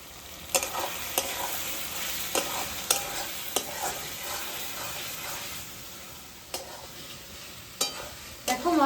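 Spice paste of green chilli, turmeric and red chilli powder sautéing in oil for restaurant-style chilli chicken, a steady sizzle broken by repeated sharp scrapes and clinks of a spoon against the pan.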